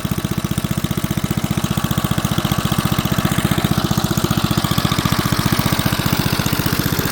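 Small engine on a 1960s Goodall three-blade lawn mower idling steadily, a loud, rapid, even putter with a rough mechanical rattle, close up and unbroken throughout.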